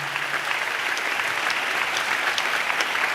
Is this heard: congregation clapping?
yes